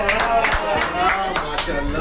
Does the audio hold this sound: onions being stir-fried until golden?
no